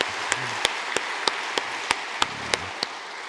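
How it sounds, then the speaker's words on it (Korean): Applause in a church fills the space with a dense wash of clapping, punctuated by sharp, evenly spaced louder claps in a steady rhythm. "우리 한번 박수로 우리 한번 서로를 격려했으면 좋겠습니다"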